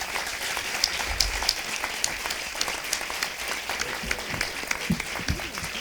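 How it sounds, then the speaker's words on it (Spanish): An audience at a film screening breaks into sustained applause, dense even clapping from a roomful of hands that holds steady for several seconds with no voices on top. "aplauso."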